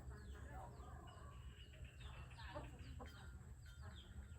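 Hakka chickens clucking faintly in the distance over a constant low background hum, with scattered short calls throughout.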